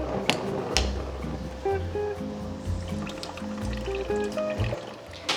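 Balsamic vinegar is poured into a pot of boiling wine and broth for short ribs, a close liquid trickle and bubbling over a few seconds, fairly loud against background music.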